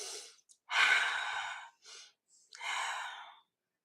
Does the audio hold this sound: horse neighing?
no